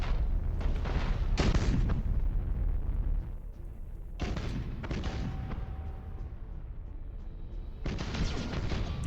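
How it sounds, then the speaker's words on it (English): A lance battery fires in the space battle game Battlefleet Gothic Armada, sending heavy booming bursts at uneven intervals over a constant low rumble of combat. "As the lance battery's going off as well"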